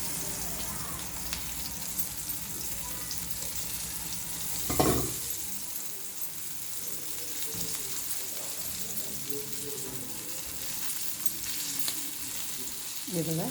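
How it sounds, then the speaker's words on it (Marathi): Rava-coated prawns shallow-fry in a pan with a steady, moderate sizzle and crackle throughout, with a louder burst near the middle and soft stirring noises. Faint speech can be heard now and then. "परत टाकून देते याच्यात सर्व फ्राय करायला"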